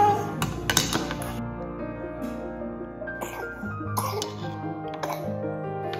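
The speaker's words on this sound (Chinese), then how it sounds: "三个小孩都咳嗽" Children coughing indoors at home, several short harsh coughs clustered near the start, then scattered throat sounds and light taps with faint background murmur.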